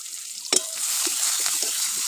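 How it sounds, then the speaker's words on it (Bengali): Onion and chili hit hot oil in a wok with a sudden loud sizzle burst. A steady, bright frying hiss follows and continues close up without any voices. "কড়াইতে তেল দিয়েছি, তেলটা গরম হয়ে গেছে, এবার পেঁয়াজটা দিয়ে দেবো"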